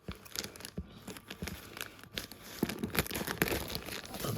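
Tough plastic packaging around a gas hob and oven care kit is torn and crinkled by hand, giving irregular crackling rips and crunches at close range, with no one talking.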